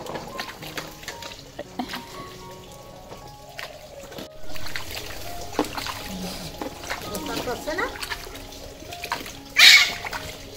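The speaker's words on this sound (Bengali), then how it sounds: "আর এই যে দেখো স্নান করছে" A small child being bathed splashes water in irregular bursts, with one sharp, louder splash near the end, among faint voices and household noise.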